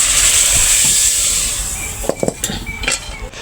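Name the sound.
frying onion and garlic to temper lentil dal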